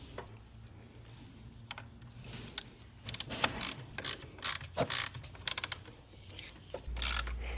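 A hand ratchet clicks while tightening a 10mm battery terminal bolt on a 2025 GMC Sierra, short bursts of crisp, close pawl clicks over a low steady hum, no talking.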